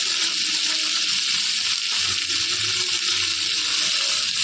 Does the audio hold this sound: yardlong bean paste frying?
yes